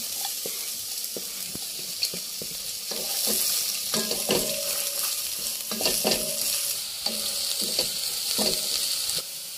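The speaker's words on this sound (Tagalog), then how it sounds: "Tayo magigisa na. Sibuyas at bawang." Onion and garlic sautéing in a hot pan for a sweet and sour maya-maya fish, a loud continuous sizzle close by, with a spatula scraping and stirring in quick irregular strokes and no voices.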